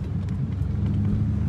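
Dodge Challenger R/T or Corvette C8 pulling in through rush hour traffic, a close, loud, steady low engine rumble with a deep burbling exhaust held throughout the short stretch.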